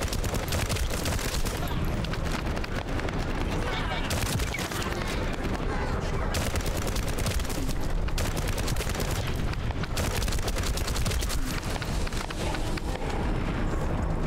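Heavy continuous gunfire and explosions from the game The First Descendant pound loudly throughout, rapid shots blending into a dense barrage with voices briefly under it.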